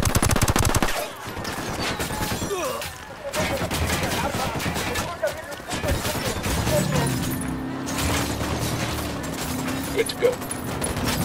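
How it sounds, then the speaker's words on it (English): Rapid automatic gunfire bursts and single shots crack through a Ghost Recon Wildlands firefight, loud and close, with pauses between volleys and game voices and background noise mixed in. "I'm opening fire."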